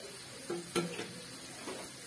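Chicken sizzling in oil in a pan over a high flame for a spicy chicken curry, a soft steady fry close by with a few quiet stirring clinks and scrapes and no talking.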